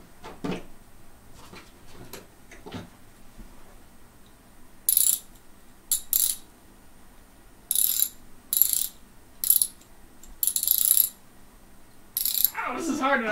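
A human voice imitating a ratchet socket wrench, giving several short bursts of rasping clicks spaced irregularly, loud and close, with quieter sounds between.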